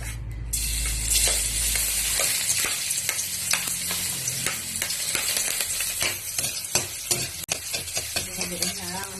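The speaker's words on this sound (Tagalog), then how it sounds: "Haluin na ang bawang." Chopped garlic for Bicol Express stirred in a hot pan, a steady close sizzle under repeated scraping and clinking of a utensil against the pan, with no talking.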